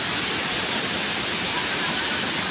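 Heavy rushing water of Balagbag Falls, swollen after rain, pours in a loud, steady roar that fills the whole stretch without a break.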